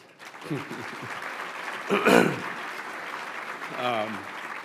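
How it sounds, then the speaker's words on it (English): An awards-ceremony audience at a world affairs honors event applauds steadily for a journalist, a moderate even wash of clapping with brief voices breaking through near the middle and the end. "So please give him a warm round of applause."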